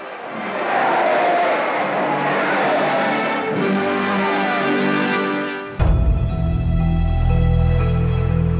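An excited New York street crowd greets Fidel Castro as he crosses to his hotel, a loud sustained hubbub of cheering voices that cuts abruptly to a different, busier noise near the end.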